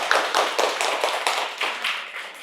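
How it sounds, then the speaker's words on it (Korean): An audience at a lecture on redevelopment and reconstruction tax exemption claps in a short burst; loud, close, rhythmic hand claps in fairly regular beats, fading slightly toward the end. "박수 한번 쳐봐"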